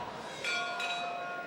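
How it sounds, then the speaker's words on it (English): Opening bell of a boxing round at a World Series Boxing light heavyweight bout, two quick metallic rings with a sustained ringing tone over faint arena murmur. "So the opening bell sounds in this"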